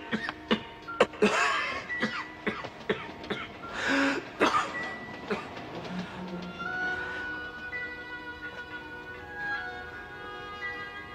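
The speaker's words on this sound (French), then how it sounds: "Je tousse." A person in a French-dubbed Beauty and the Beast drama coughs in several harsh bursts, followed by a drawn-out strained vocal sound with a meow-like quality, close and fairly loud.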